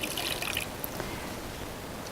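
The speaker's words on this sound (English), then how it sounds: "now we just want to add a little bit of warm water" Warm water poured into rice in a kitchen: a brief, close trickling splash in the opening moment that quickly fades to quiet room tone.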